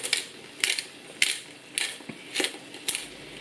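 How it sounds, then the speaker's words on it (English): A pepper mill grinding pepper over a pan of shakshuka, eggs and tomato: six evenly spaced crunchy, ratcheting twists, close and fairly quiet, with no talk. "but we'll give it a grind of pepper."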